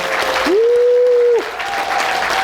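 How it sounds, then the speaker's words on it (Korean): An audience at an economics lecture on the 2023 economic outlook breaks into loud, dense applause and cheering, a sustained roar of clapping with a single held whistle-like tone cutting through near the start. "마무리 이야기 잘해달라고 박수 함성 크게 한번 부탁드립니다."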